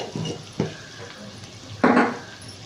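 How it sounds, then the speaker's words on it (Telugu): Ginger garlic paste frying in a pan for gonguura egg rice, a low sizzle broken by three distinct scraping stirs of a spatula, close and moderately loud, no voices. "మనకు ఈ అల్లం తెల్లగడ్డల పేస్ట్ పచ్చివాసన పోయే వరకు ఫ్రై చేసుకుందాము"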